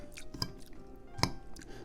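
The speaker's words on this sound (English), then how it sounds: "the asparagus is still crunchy" Crunchy asparagus tossed with linguine, parsley, breadcrumbs and lemon, chewed close to the mic: soft wet mastication with two sharp crisp crunches standing out, no talk.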